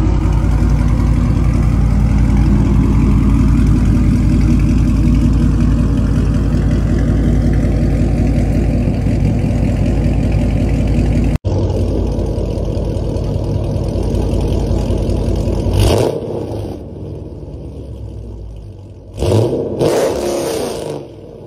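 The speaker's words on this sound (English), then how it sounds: "a catback Corsa exhaust, and it sounds pretty good" A 392 (6.4-litre) Hemi V8 with a Corsa catback exhaust idles with a deep, rumbling exhaust, then after a cut it settles lower and is blipped in two sharp revs, loud and close.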